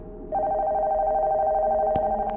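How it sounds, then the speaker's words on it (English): Telephone bell ringing upstairs in a haunted-house horror video game, a sustained electric ring starting abruptly and continuing steadily, muffled as if from another floor, with a couple of faint knocks near the end. "I know the phone upstairs ringing."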